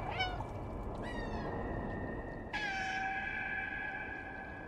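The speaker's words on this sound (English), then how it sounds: "I'm meowing as hard as I can." A cat in the Stray video game meows three times, each a high, drawn-out call with a falling tail. The calls are faint over a steady background hum and no one speaks.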